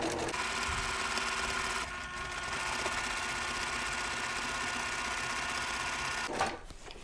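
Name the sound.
sewing machine stitching quilt block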